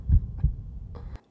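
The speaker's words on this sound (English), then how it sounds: "Maybe I'll throw like a heartbeat up here." A heartbeat sound effect with two deep, thumping low beats in quick succession, loud and close, followed by a brief higher click before cutting out.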